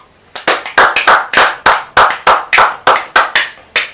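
A church congregation clapping together in a strong, regular rhythm, sharp loud claps repeating steadily about every third of a second, close and without talk.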